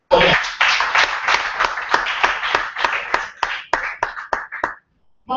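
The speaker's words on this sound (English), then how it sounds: "yes, Mamaye, shall we clap for them?" An audience at a public lecture on safe blood for mothers claps in a burst of distinct, rhythmic hand claps that thin out and stop.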